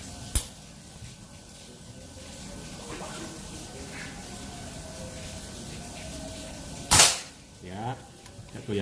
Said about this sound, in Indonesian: Tembakan yang keenam